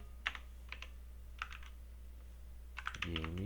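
Keystrokes on a computer keyboard, tapped in short bursts of a few quick clicks with pauses between, close and fairly quiet, entering text in a drawing program.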